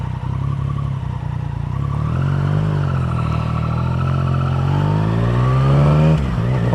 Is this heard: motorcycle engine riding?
yes